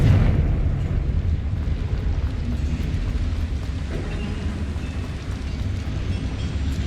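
The Confringo fire spell going off in the wizarding game Hogwarts Legacy, a heavy fiery explosion with a deep rumbling roar that stays loud and dense, then slowly thins out.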